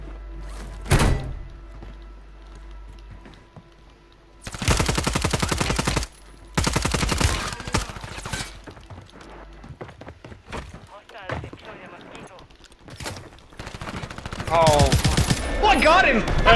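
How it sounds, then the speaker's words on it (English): Warzone video game gunfire, loud rapid automatic bursts and single shots from close range, interspersed with quieter distant pops, while players talk excitedly over the action. "there's another one shooting at us"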